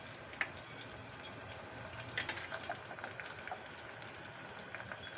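Curry leaves dropped into hot oil with reddened onions give a steady, close crackling sizzle with scattered sharp pops throughout.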